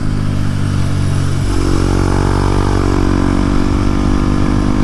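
A 2025 Kawasaki Z900 motorcycle is being ridden, its engine a loud, steady drone with wind noise. Its pitch drops as it shifts gear early on, then climbs again.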